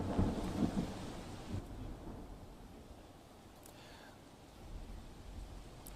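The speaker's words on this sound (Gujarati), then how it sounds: "જે રીતે હાલમાં વરસાદ વરસી રહ્યો છે" Steady rain falls with a low thunder rumble near the start during a monsoon downpour in Tapi district, Gujarat; the wash of rain continues evenly, slightly louder at first and fading a little toward the end.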